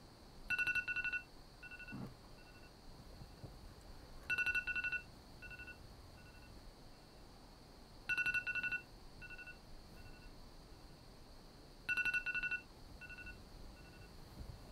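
A phone ringtone heard inside a car, four identical bursts of bright electronic chirping repeating every few seconds, fairly quiet and distant, with faint background hum between rings.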